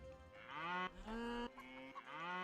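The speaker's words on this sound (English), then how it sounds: "How many cows spawn on this map?" Cows in a video game low in a series of long, deep moos, one after another, close and clear with no voices.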